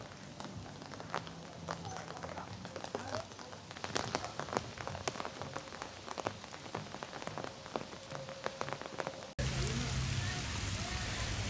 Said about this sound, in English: The wind and rain are too strong now, making it unsafe.